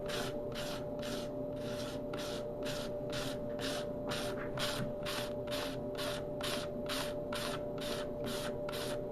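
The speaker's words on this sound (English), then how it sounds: "Sharp, brand new razor blade, and I use it like a scraper. And I just run over the top." A sharp new razor blade used as a scraper clears cured epoxy from a glass-fill table top in regular back-and-forth strokes, about sixteen even rasping scrapes, close and clear over a faint steady hum.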